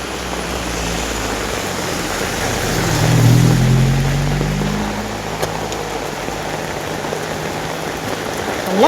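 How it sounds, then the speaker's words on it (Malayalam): Heavy rain pours steadily on a walk past flooded paddy fields, a broad continuous wash of drops that swells briefly and then settles, heard alone without voices. "നല്ല മഴ ഗൈസ്"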